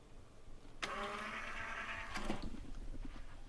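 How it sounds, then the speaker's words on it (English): A Panasonic DP-UB320 Blu-ray/DVD player spins up and whirs steadily while it reads a freshly inserted disc, a close mechanical hum with a brief clunk near the end and no talking. "the DVD player is now just whirring around to see if it can play the disc"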